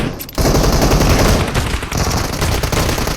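Rapid automatic gunfire in the shooter game PUBG Mobile rattles loud and continuous in a dense burst of shots, with no talk over it.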